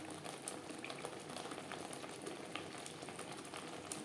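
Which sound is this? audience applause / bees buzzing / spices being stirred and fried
spices being stirred and fried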